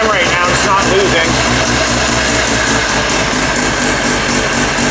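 A Mazda RX-7 engine being tuned on a Haltech system runs at a steady 2200 RPM, giving a loud, continuous buzzing drone with a regular pulsing beat, while people talk nearby over it.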